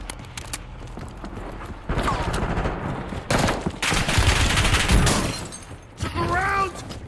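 Gunfire in Call of Duty: Warzone, sharp shots cracking in bursts across the clip amid loud in-game noise, with a few short bursts of talk mixed in.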